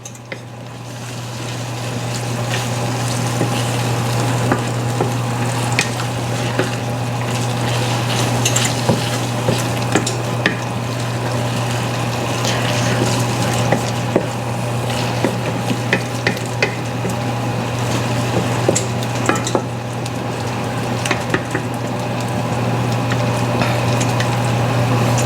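Ground beef sizzles steadily in its own rendered fat while being cooked for a Shepherd's pie, with a continuous frying hiss and occasional faint scrapes of stirring, close and unbroken throughout.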